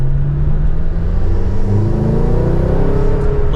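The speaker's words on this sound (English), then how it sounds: "if we give it an acceleration without using the paddles" A McLaren GT in non-active mode accelerates, its exhaust and turbo building into a loud, close, steady engine roar with a rising pitch through the run.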